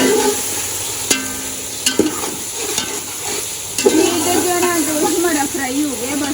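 Food frying in a pan in a home kitchen makes a steady hissing sizzle with a few sharp clicks and knocks. A person starts talking over it partway through.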